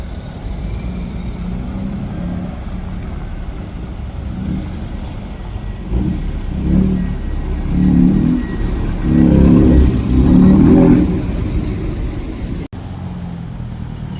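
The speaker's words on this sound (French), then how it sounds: "BMW M5 G90 en berline, encore une fois." A BMW M5 G90 sedan with four aftermarket exhaust tips revs on the street, the engine note swelling in several pulses over steady traffic noise.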